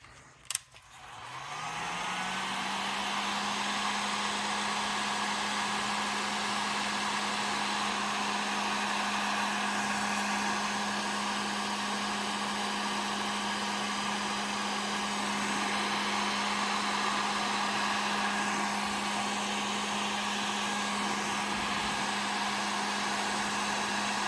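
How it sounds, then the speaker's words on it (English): A heat gun blows steadily while shrinking reflective heat-protective tape onto a custom starter wire, switching on with a click and rising to a constant, close whirring hiss with a steady tone that holds unchanged for the full length, no voices. "Just use the heat gun."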